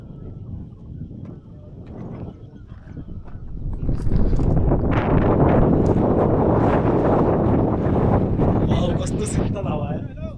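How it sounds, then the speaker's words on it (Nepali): Wind buffets the microphone during an outdoor motorbike ride on the way to a waterfall in heavy rain, a loud rumbling roar that builds and stays strong, with people talking over it. "कस्तो शीतल हावा आयो।"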